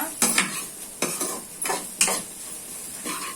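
Bitter gourd curry being stirred by hand in a pan with salt just added, heard as four or five separate scraping strokes of a utensil against the pan, each a short swish, over a soft sizzle with no talking.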